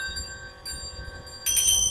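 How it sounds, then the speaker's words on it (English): A small hand bell rung in a ritual to cleanse the air, giving sustained bright ringing tones with a second, louder strike near the end. "Bells used to cleanse the air for obvious reasons."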